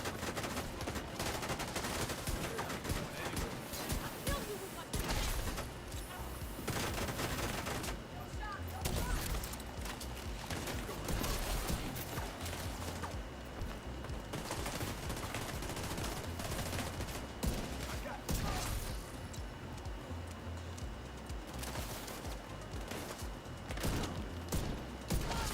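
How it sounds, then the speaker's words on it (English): Nonstop rapid pistol gunfire in The Division 2, sharp shots and impacts piling up densely for the whole stretch, steady and loud with little pause between bursts. "It doesn't take much to kill these guys with the pistol."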